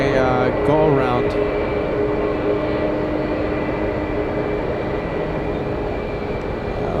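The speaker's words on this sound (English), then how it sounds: "And it looks like we have a go-around." An airliner going around at San Francisco airport, heard as a loud, steady jet-engine roar that slowly eases, with a brief voice near the start.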